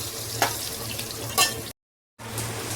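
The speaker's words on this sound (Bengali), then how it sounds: "দেখো আলুগুলো ভালো করে আমি লাল লাল করে ভেজে নেব" Potatoes fry in hot oil with a soft, steady sizzle, broken by a couple of sharp stirring scrapes and a brief dropout of total silence before the sizzle resumes.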